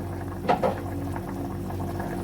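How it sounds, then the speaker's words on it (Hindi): Steady bubbling of water boiling in a pot, a continuous low rumble with a couple of louder gurgles near the start. "पानी को देखे बॉयल आ गया।"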